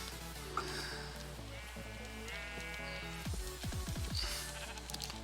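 Sheep bleating in a video game, several wavering bleats in a row over a steady low background hum, fairly soft, with no talking.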